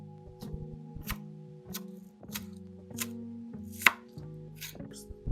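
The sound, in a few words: knife chopping green onion (scallion)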